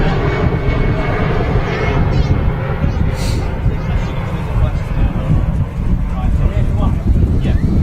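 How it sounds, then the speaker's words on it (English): A Lufthansa jet rolls for takeoff at Manchester Airport, bound for Munich, with a loud, continuous low engine rumble and wind buffeting. Someone speaks over the roar. "Lufthansa on the roll to Munich."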